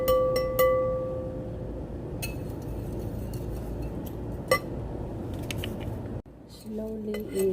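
Spoon or whisk scraping and clinking in a bowl as butter is mixed into coffee chocolate muffin batter, with sharp metallic taps at intervals, a steady soft mixing rustle and a brief tonal hum in the background.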